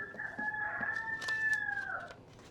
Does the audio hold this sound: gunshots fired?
no